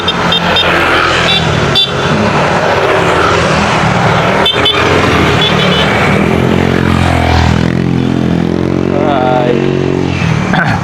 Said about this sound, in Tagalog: Ang dami motor.